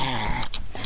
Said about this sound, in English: Do you hear that growl?